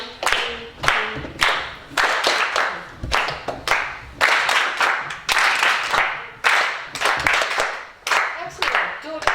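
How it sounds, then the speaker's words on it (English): A class claps together in a steady one-two-three rhythm, sharp repeated hand claps landing in time over several measures, with voices talking under the claps, during an improvisation lesson. "You're just clapping 1, 2, 3"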